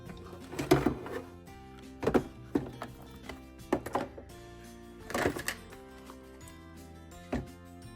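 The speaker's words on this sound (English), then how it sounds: "So let me get out the embossing machine and we'll do that stage first." An embossing machine presses cardstock through an embossing folder, giving a series of irregular mechanical thunks and clunks spaced a second or two apart, close by with no talk.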